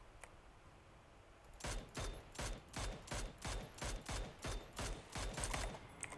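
Video game gunfire crackles in a quick series of about a dozen evenly spaced bursts, starting after a quiet opening and continuing steadily to the end.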